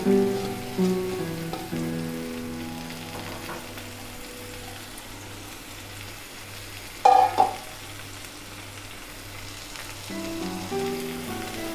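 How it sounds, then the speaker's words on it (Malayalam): Dried shrimp frying in hot oil in a home kitchen, a steady close sizzle and crackle running throughout, with a couple of brief clanks of a utensil stirring the pan. "എണ്ണ ചൂടാകുമ്പോൾ നമുക്ക് ഈ ഉണക്ക ചെമ്മീൻ ഇതിലേക്ക് ആഡ് ചെയ്യാം."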